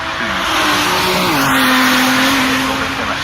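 A Ford GT race car passes at the Goodwood Festival of Speed, a loud engine note holding steady and then dropping in pitch as it goes by, with faint tire squeal.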